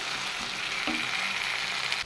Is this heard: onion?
yes